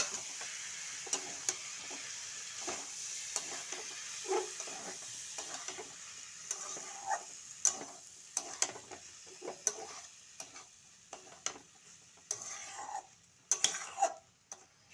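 Boiled chana dal with minced meat being stirred and fried in a pan, a soft sizzle under scattered scrapes and clinks of the spoon against the pan, quiet and close, growing busier toward the end.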